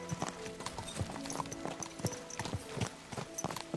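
Horse hooves clip-clop on the ground in the video game Kingdom Come Deliverance 2, in a steady uneven run of clops with a faint whinny, fairly quiet and with no speech.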